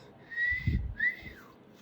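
A person whistles to a sleigh team: two short, bright rising-and-falling whistles, close and clear, with a soft breathy thump between them.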